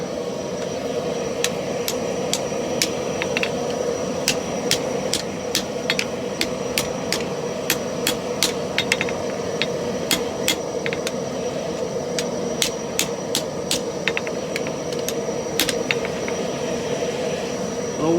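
Hot steel hammered to bend the eye of a Viking axe during forging, sharp ringing metallic strikes arriving in irregular bursts over a steady rumbling forge background, some blows quick and clustered, others spaced apart.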